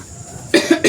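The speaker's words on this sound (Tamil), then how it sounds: "சரியான இருமல் தலைக்கு சுத்துதே" A woman with a bad cough at home while cooking: after a quiet moment, three harsh, close coughs follow in quick succession, each short and loud.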